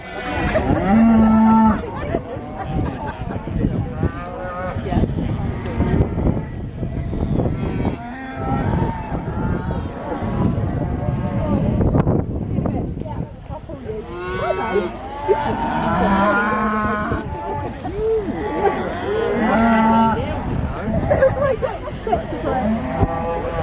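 Limousin and Simmental pedigree cattle low repeatedly at an agricultural show, long deep moos recurring near and far over a crowd's babble and chatter.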